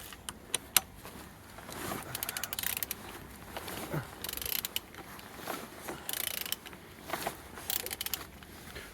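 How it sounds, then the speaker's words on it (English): Z18XER car engine being turned over by hand: quiet mechanical clicks, ratcheting and metallic ticks at an irregular pace, close by, with no talking. "Today we're turning your engine"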